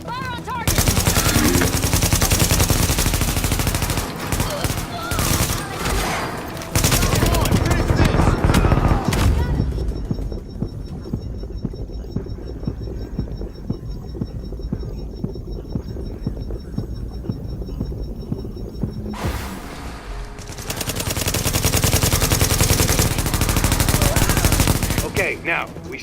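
Dense automatic and machine-gun fire from a video game shooter set in The Division's city combat, loud rapid bursts filling the opening seconds, easing behind a quieter stretch, then returning in heavy volleys near the end.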